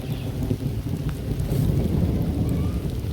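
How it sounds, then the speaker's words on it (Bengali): Heavy rain pours steadily in a dense, loud hiss, with a faint low rumble of thunder underneath. "বৃষ্টি অনেক জোরে নেমে গেছে"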